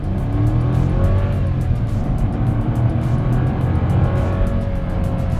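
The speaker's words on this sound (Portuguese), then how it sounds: "Em condições normais, o motor não é ouvido, a não ser que eu dê uma pisadinha um pouquinho mais funda" Sedan engine under harder acceleration, heard from inside the cabin of a Volkswagen Virtus Highline or Honda City Touring: a steady, loud droning engine note with rising harmonic tones, continuous throughout with no talk.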